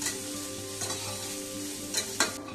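Grated coconut frying lightly with vermicelli in a pan gives a steady soft sizzle, with a few brief scrapes of stirring, and no voices.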